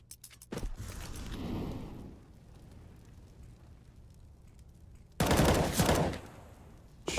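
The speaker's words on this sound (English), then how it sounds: "Shots from Fugly." Counter-Strike gunfire on the Mirage map during a competitive match: a sharp shot and a short burst early on, then a louder rapid volley near the end, with quiet game ambience between.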